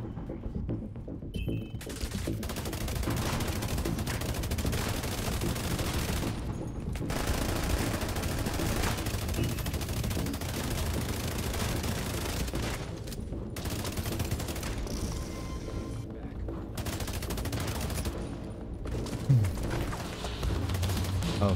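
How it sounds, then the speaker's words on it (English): Light machine gun fire in The Division 2 PvP, long sustained bursts of rapid shots with a few short pauses, steady and moderately distant under game ambience. "Oh, fire LMG as well."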